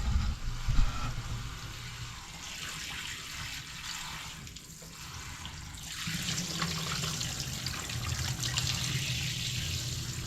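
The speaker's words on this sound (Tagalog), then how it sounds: "hugasan muna natin ito" Tap water runs steadily over food being washed in a sink before cooking bamboo shoots, a continuous close splashing trickle that swells louder in the second half.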